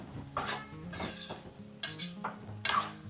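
Spoon stirring cumin, coriander and other spice powders into a Telugu bottle gourd curry, giving repeated scraping clinks against the pot in short bursts, fairly close, with a faint background hum and no talk.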